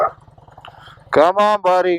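A dog growls low and steady in the first half, close by, then someone speaks over it.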